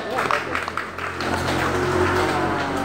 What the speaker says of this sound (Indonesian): tepuk tangan untuk Dasar Wisma 14